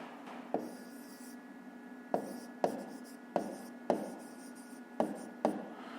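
Chalk or a marker writes a city name on a classroom board during a fifth-grade maths lesson, a series of short scratchy strokes in quick bursts with pauses between, close and clear with no talking.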